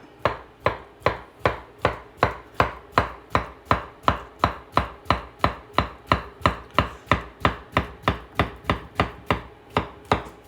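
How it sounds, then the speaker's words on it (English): A knife slices through bananas on a cutting board for a vegan banana pudding, making a steady run of about thirty crisp, evenly spaced chops, close and clear, with no voices. "Okay, so I'm going to slice this up."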